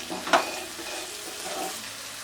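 Cluster beans (gavar) sabzi cooking in a pan produce a soft, steady sizzle with one brief utensil tap near the start, close and quiet, no talking.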